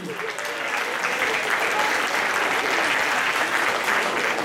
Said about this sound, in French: Et bien, Guillaume, on va l'applaudir bien fort